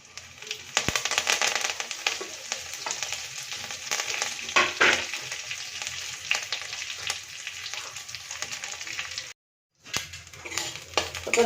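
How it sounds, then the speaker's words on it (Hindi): Dried red chilies frying in oil in a kadai for tempering give a continuous crackling sizzle with sharp pops, steady and close, briefly cut off near the end before resuming. "सुखिला लंका को आम भल रूप से भाजी देचु"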